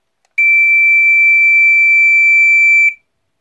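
An Entronic Vigilante ES-3 smoke detector sounds its test alarm: a single loud, steady, low-pitched continuous piezo tone lasting about two and a half seconds, then cutting off into silence.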